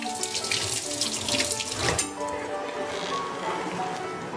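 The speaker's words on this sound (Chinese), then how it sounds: "我们就把水倒进这个水槽" Water poured from a container into a kitchen sink while preparing pickled white bitter melon, a steady close splashing rush with light clinks, with a voice talking briefly partway through.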